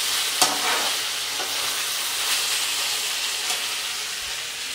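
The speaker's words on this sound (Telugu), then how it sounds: "మధ్య మధ్యలో కదుపుతూనే ఉన్నాను." Ivy gourd (dondakaya) fry cooking on a stove, a continuous close sizzle with occasional scraping stirs of a spatula against the pan.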